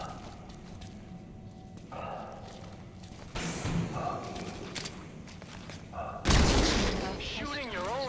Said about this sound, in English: Shooting your own men!